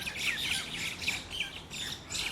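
Common myna birds fighting, loud harsh squawks and scratchy calls repeating in quick bursts close by, with no speech.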